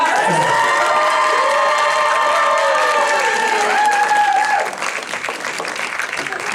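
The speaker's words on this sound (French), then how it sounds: "Et l'applaudit s'il vous plaît." Audience applauding and cheering for cosplay contest winners at a prize ceremony, a dense burst of clapping with some whoops that eases slightly near the end, close and lively.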